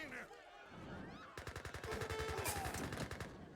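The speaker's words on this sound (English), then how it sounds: "Gatling gun's going to be poking to some damage here" Rapid rattling bursts of Gatling gun fire in an Age of Empires match, a fast, evenly spaced stream of shots beginning partway through, loud and close amid game noise, with no clear talking.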